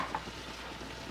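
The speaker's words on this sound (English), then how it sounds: "Give that a little stir." Kimchi frying in a pot sizzles in a steady, even hiss while it is stirred, close and continuous with no voices.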